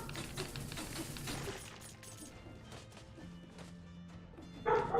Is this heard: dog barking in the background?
yes